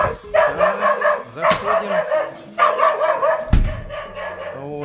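A farm dog barks repeatedly at arriving visitors, loud and close, in short bursts with yips and whimpers between them, while a person speaks briefly nearby.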